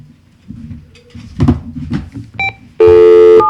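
A telephone number is dialed on a phone: low background murmur and scattered knocks give way to a short electronic beep and then a sustained loud tone at the end.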